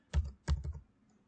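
A few quick keystrokes on a computer keyboard, two short bursts of close, crisp plastic clicks in a quiet room, then silence.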